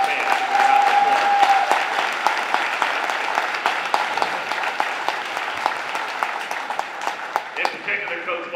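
Applause from the audience at the Coaches vs Cancer 2019 ceremony, a full, sustained round of clapping with voices mixed in, thinning and fading out near the end.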